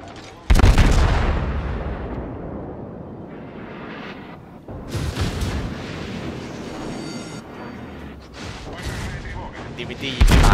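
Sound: naval gunfire from warships in World of Warships video game

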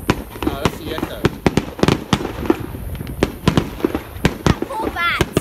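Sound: fireworks exploding

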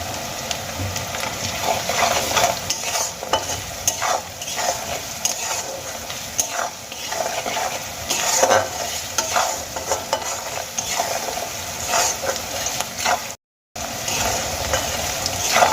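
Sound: onions frying with salt in a pan

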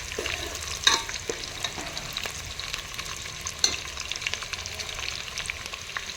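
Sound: onion frying until brown

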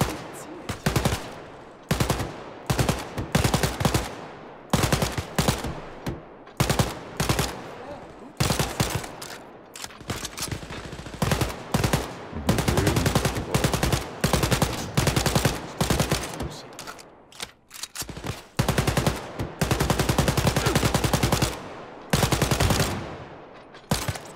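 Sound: gunfire in the video game Wolfenstein: Youngblood

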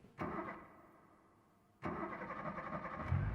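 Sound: car engine starting in BeamNG video game

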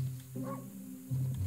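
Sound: wolf barking in video game Okami

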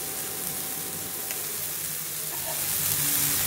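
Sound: paneer tikka masala frying in a pan

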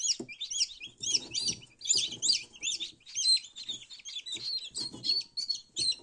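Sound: newly hatched turkey poults chirping

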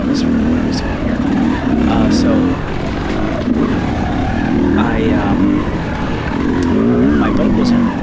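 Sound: Yamaha YZ250X dirt bike engine during harescramble race

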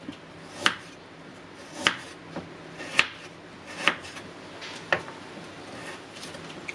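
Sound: chopping Indian gooseberries with a knife

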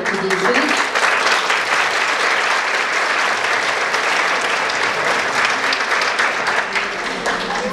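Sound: audience applause at folklore concert

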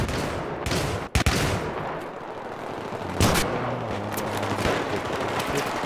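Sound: gunfire from a teammate in video game Battlefield 3

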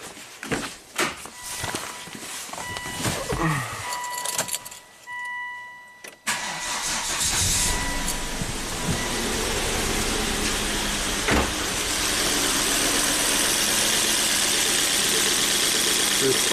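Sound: Volvo turbo engine starting and idling

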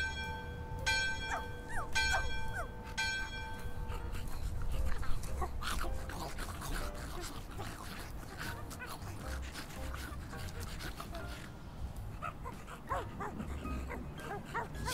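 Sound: dogs barking in video game My Friendly Neighborhood

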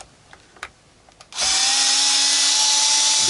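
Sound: removing Fender Telecaster neck screws with screwdriver

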